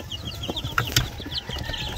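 Brooder-raised chickens clucking on a Filipino farm, a few short, close clucks and soft calls scattered over quiet background with light shuffling, no talking.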